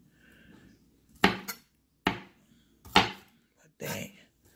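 Onions are chopped with an Imarku 7-inch Santoku knife, giving four sharp knife strikes on a board spaced about a second apart, close and fairly loud, with faint background noise between.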